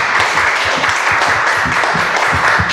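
A church congregation claps together after a Sunday worship service, a dense, lively wash of applause with some rhythmic claps poking through, close and full throughout.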